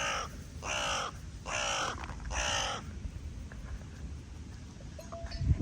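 A crow caws four times in a steady rhythm, close and clear, followed by quieter outdoor ambience with faint rustling.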